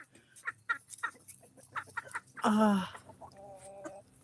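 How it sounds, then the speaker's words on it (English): A hen clucks in a run of short, choppy calls, ending in a louder drawn-out squawk and a few softer notes, close by with no talking. "This is one of our hens, Roxy."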